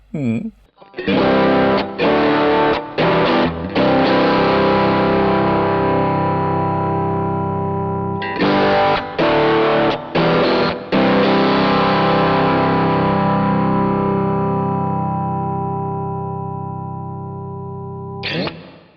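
An electric guitar plays chords through a Wampler Pinnacle distortion pedal: thick, saturated strums in choppy bursts, then a long chord left ringing and slowly fading, each note still distinct within the crunch.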